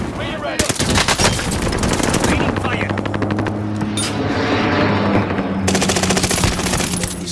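Rapid automatic gunfire bursts loud and close in Call of Duty: Modern Warfare, dense machine-gun rattles with brief pauses and a helicopter-like drone underneath, with players talking over the action.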